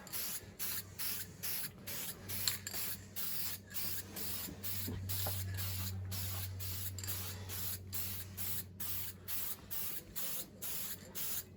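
A spray can lays a second light wet-on-wet coat of paint in a rapid series of short hissing bursts with brief gaps, close and fairly quiet, with a low hum underneath.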